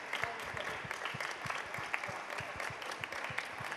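Sustained, even clapping from a seated crowd honoring the Grand Prix winner at the Musical Impulse 2018 music competition, with a nearby pair of hands beating a clear, regular rhythm above the broader applause.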